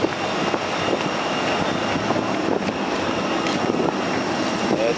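Airplane engine drones steadily inside the cabin during the descent to Cebu, a loud, continuous propeller-like roar with no pauses.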